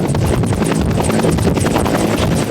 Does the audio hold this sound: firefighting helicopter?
yes